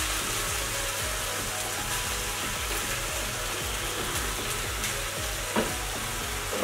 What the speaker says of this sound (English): We're gonna fry all of this up.